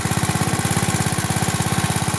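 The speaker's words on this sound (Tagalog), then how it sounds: "umaandar na tong makina natin" A small engine driving a water pump for drip irrigation runs at low throttle, a steady close chugging pulse with even rapid beats and no pauses.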